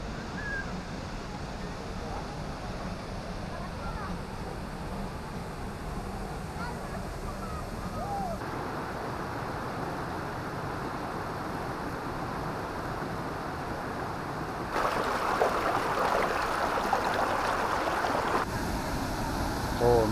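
Steady broadband rush of Noble Falls waterfall, continuous and fairly close, with a brighter, louder surge partway through; faint voices sit under the water noise.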